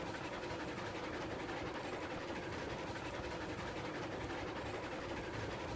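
A locomotive in the Railroads Online game runs along the rails with a constant dense rumble and faint clatter, steady and unbroken throughout.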